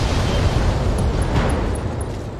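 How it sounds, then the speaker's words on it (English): A long-range missile ammunition store explodes on a battle mech in the BattleTech video game: a loud, sustained rumbling blast with crackling debris that fills the whole moment without pause. "LRM ammo explosion."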